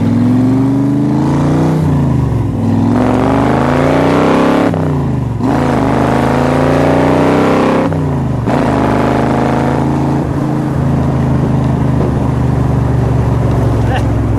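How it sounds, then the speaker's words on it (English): A Factory Five 1965 Cobra replica with a five-speed gearbox drives off, its loud engine rising and falling through several gear changes, each revving pull followed by a shift, then settling into a steady cruising drone. "Robert and I are taking the Cobra out"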